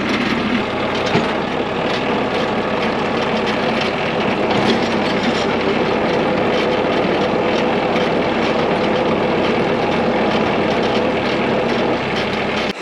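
A vehicle drives ahead along a muddy woods road with its winch spool freewheeling to slacken the cable. A loud, steady engine and drivetrain roar fills the whole stretch without letting up, and no one talks.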